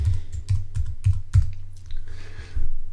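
Keys clack on a computer keyboard as a word is typed into graphics software, a quick irregular run of close, distinct keystrokes with short pauses between clusters and no talking.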